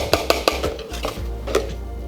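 Biscuit batter is mixed in a bowl, with a few sharp, evenly spaced taps and clinks of the utensil against the bowl followed by softer stirring, close and clear with no voices.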